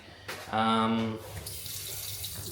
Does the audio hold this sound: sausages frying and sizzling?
no